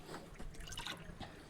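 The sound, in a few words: tap water flowing into tank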